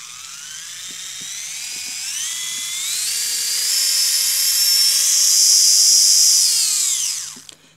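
A small 12-volt DC gear motor with a plastic gearbox switches on and runs, a close, loud whine that climbs in pitch as it speeds up, holds steady, then winds down sharply at the end.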